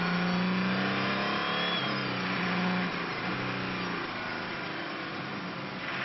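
An on-board race car engine at the 24 Hours of Le Mans, the car of Marcel Fassler, revs loudly and continuously with rising and falling gear pitch, close and without talk.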